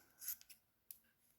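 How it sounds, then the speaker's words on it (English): A few quiet, quick snips of scissors cutting crocheted yarn loops, close and crisp, with short pauses between cuts. "Take my scissors,"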